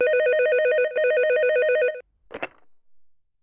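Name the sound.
telephone ringing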